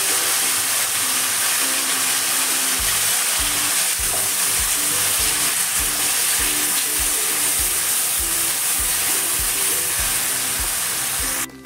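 Seeded tamarind pulp hitting hot oil in a pan for a sweet-sour tamarind pickle, a loud steady sizzle and hiss with a rhythmic stirring knock underneath, continuous throughout.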